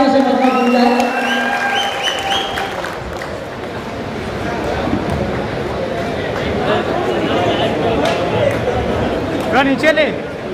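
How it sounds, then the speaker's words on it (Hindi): Crowd at a political gathering at a lawn venue applauding amid general hubbub, clapping and murmuring voices mixed together, with a louder flurry of claps near the end; someone speaks over the start. "एक मरतबा फिर बहुत जोर की तालियों से मकदम मिल जाए।"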